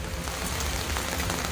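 Steady rain in Mussoorie, Uttarakhand, during a stretch of heavy rain and landslides, falling as a dense, even hiss of drops on surfaces that stays constant and fairly close throughout, with no voices.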